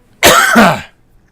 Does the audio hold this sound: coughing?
yes